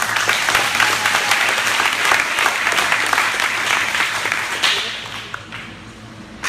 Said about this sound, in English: So clap it up for your future freedom.